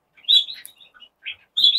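Border canaries in a cage give bright, close chirps in two short bursts separated by a brief pause, loud and clear with no other sound.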